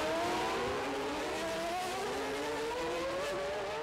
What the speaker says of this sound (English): With a sick engine, he comes frustratedly to a halt